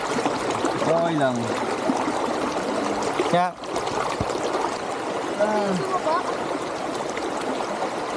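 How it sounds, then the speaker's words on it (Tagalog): Small river current rushing steadily nearby, a constant broadband wash of flowing water under occasional voices of people talking. "Malakas ng konti yung agos."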